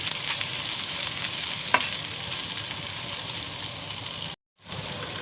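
Onion fries in a pan for a black chickpea curry, producing a steady close hiss and sizzle with light stirring scrapes, briefly cutting to silence near the end before resuming.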